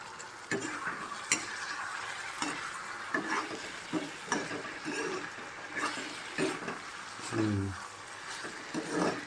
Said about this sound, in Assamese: ভিতৰত ভাজিও বনাই আছোঁ মই এতিয়া